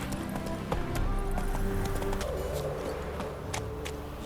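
Horse hooves clip-clopping in The Witcher 3 video game, a steady rhythmic run under a continuous music bed with a low voice briefly present.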